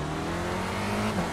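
A Spec Racer Ford race car at Oulton Park in iRacing: a steady, droning engine hum held at an even level for the whole moment, with no talk.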